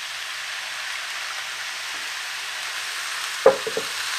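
Vegetarian fried rice sizzles in a pan, a steady soft crackle that continues throughout, with a few sharp spatters near the end as soy sauce goes in.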